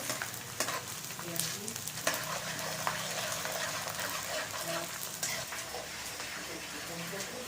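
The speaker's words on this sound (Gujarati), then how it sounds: "એકદમ સરસ ગુંદર તળાઈ રહ્યો છે" Steady sizzling of edible gum frying in hot ghee, with occasional stirring and faint clinks beneath, continuous and close throughout.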